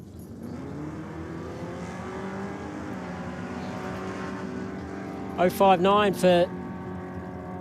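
Engines of a Ford Cortina and a Holden Ute at a drag racing championship idle and rumble steadily, then a short burst of sharp revving near the end, under a commentator's voice.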